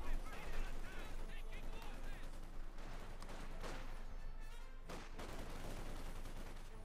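Rapid rifle and small-arms gunfire crackles through a Company of Heroes 2 battle as Volksgrenadiers trade shots with Soviet conscripts, dense overlapping bursts under a commentator's steady talk.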